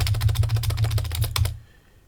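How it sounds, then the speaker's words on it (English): Rapid computer keyboard typing, a steady run of close, crisp key clicks lasting about a second and a half before stopping, heard alone with a low hum beneath. "we can type"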